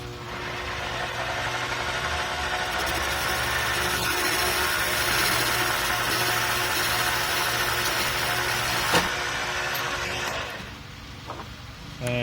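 A mini lathe turns down a Ford 302 exhaust pipe on a makeshift workbench, giving a loud, steady mechanical whir and rumble for about ten seconds before winding down, with a brief clank near the end.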